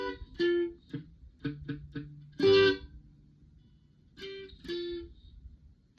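Electric guitar plays a riff in a lesson setting: a series of separate plucked notes and short chord stabs with gaps between them, fairly clean and moderately loud.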